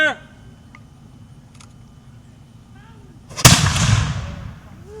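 A historic cannon fired by linstock and slow match goes off in a single loud blast partway through, followed by a long rumbling decay; quiet outdoor ambience and a faint voice come before it.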